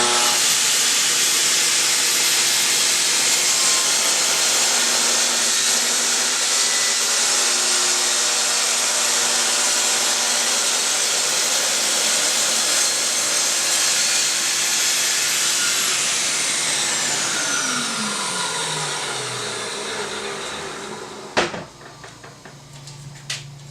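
A saw cuts into wood stock for hall table tapers, giving a long, loud, steady hissing whine that holds for about twenty seconds, then winds down with a falling pitch and a couple of sharp knocks.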